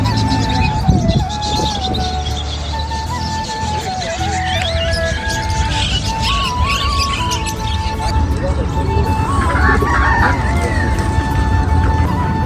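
Free-range country chickens in a village area, with a rooster crowing and hens clucking steadily through a busy mix of background voices and ambient noise.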